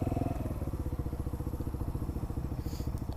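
Motorcycle creeping along at very slow speed on the clutch alone, its engine putting out a close, steady, low chugging pulse throughout with no talk.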